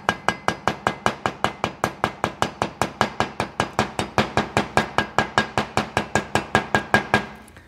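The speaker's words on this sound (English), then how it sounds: "an easy way of transferring your pattern is with a nylon mallet" A nylon mallet taps around the edge of a Yamaha XS400 cylinder head, a rapid even series of about thirty sharp close knocks, loud and alone.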